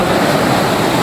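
Waterfall after the rains near Abbottabad, a steady loud broadband rush of falling water, constant and close with no breaks.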